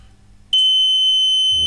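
A water detector's buzzer suddenly sounds a loud, steady high-pitched electronic tone after a quiet moment, continuous and alone.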